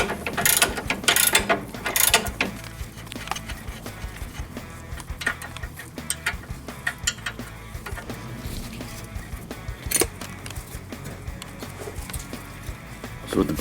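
A ratchet with a 19mm socket removes a bracket during DeLorean DMC-12 coilover work, giving fast clicking pawl bursts with metallic clinks and handling noise. The sound is close and continues for over ten seconds.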